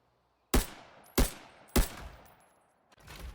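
Gunfire with high-tier ammo in the Arena Breakout shooter game: three loud, sharp shots spaced about half a second apart, each with a ringing decay, then a fourth shot after a pause.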